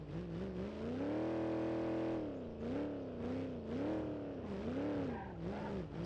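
In the video game BeamNG.drive, a simulated car keeps driving after hitting a tree. Its engine drones loudly and continuously, rising and falling as it revs, with faint tire noise and no talking.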